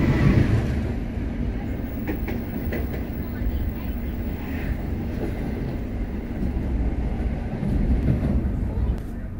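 Malioboro Express train running fast, heard from a rear carriage that rocks and jolts; a steady rumbling roar with faint rail clatter fills the whole stretch.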